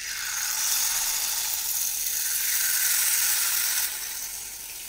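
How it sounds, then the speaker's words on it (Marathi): Jalebi batter frying in hot oil, yellow-coloured instant jalebi, a loud dense continuous sizzle close up that swells and then eases off near the end, with no talking. "आपलं तेल सुद्धा गरम झालेलं आहे। तर आपण यामध्ये जिलेबी सोडूया"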